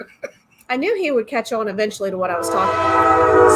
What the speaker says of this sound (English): Sorry for the train.